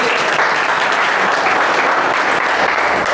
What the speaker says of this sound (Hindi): ताली बजा दी एक बार इसके लिए।